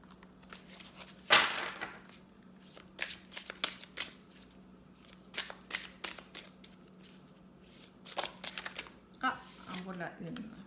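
Playing cards shuffled and handled up close in short bursts of riffling and flicking, with crisp slaps between them and a steady low hum underneath.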